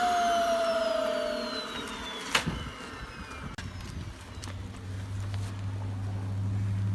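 A Dyson upright vacuum cleaner runs in bitter cold at minus 27, a steady moderate motor whine with a brief knock partway through and a low hum settling in later.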